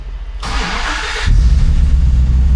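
A Dodge Viper's V10 engine running with the top down, a deep low rumble that swells after a brief higher whooshing burst, then settles into a steady, loud throb.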